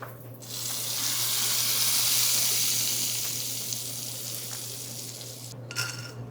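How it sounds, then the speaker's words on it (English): Kashmiri chili tadka poured into a white bean and sweet potato stew gives off a loud, broad sizzling hiss that swells, fades slowly and ends with a short clatter, over a steady low hum. "add the Kashmiri chili powder and then put this tadka into our stew"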